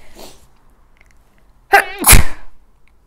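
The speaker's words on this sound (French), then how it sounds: "je vais de nouveau éternuer" A single loud, close sneeze with a sharp intake of breath followed by an explosive burst, alone in a quiet room.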